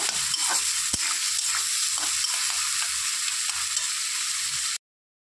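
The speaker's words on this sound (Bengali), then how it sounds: "চিংড়ি মাছ ভাজা হয়ে গেছে, এটা আমি 30 সেকেন্ডের মতো ভেজে নিয়েছি" Prawns fry in hot oil with a steady, close sizzle and occasional stirring scrapes, without pause for about five seconds before stopping abruptly.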